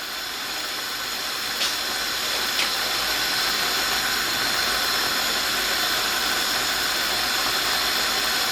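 Raw carrot sautéing in fat in a pan, a steady, even sizzle and hiss that holds loud and constant, with a couple of faint clicks early on and no voices.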